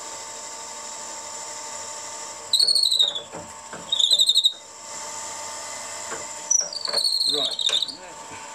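A small drill on a lathe squeals in several short high-pitched bursts over a constant machine hum, with a brief spoken word.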